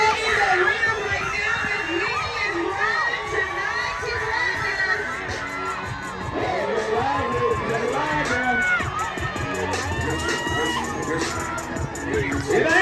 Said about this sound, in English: I need y'all to make some noise